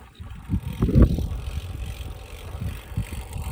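A bicycle rolls along in mezcal country with low rattling and bumping, plus a stronger jolt about a third of the way in. Wind buffets the microphone underneath, and no speech is heard.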